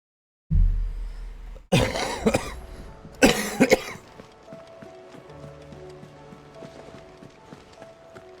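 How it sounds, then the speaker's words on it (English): A man lets out a few loud, harsh coughs in two bursts up close, then quieter game sounds and a low hum carry on afterward. "Sorry about the coughing."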